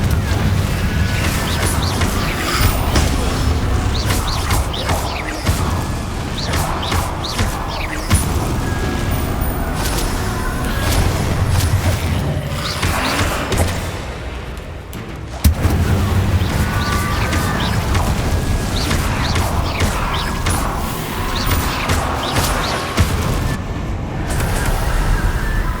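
Confringo blasting spells explode in Hogwarts Legacy, with repeated booming bursts layered over dense, continuous game noise and no talking.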